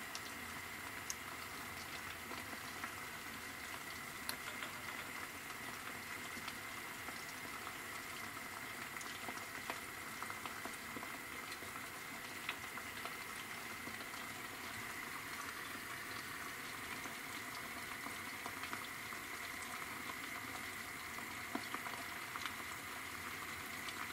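A NEFOR-16 home autoclave with its lid being opened after canning river fish releases air pressure as a faint, continuous hiss and bubbling at low level, steady throughout with no voices.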